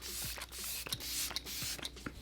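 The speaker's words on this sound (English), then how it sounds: "I'm gonna go in with my Morphe Luminous Setting Spray." Morphe Luminous setting spray misted onto a face in several short, hissing bursts, close and fairly quiet, evenly spaced with brief pauses between pumps.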